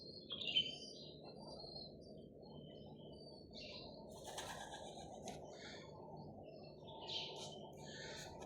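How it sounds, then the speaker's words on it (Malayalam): Pigeons coo softly and intermittently over a low, steady background hum, with a few faint chirps and some wing flutter, all quiet and somewhat distant. "പ്രാവുകൾ കരയുന്നുണ്ട്"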